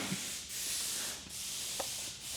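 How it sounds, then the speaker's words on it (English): Brake cleaner sprays from an aerosol can onto a wooden stick in repeated broad hissing bursts at close range, separated by brief pauses and faint rubbing. "I'll just brake clean it off for you."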